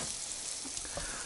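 Zucchini frying in a pan over a campfire or stove in a taiga hut on wheels, a steady close hiss of sizzling oil with small crackles and pops, no voices.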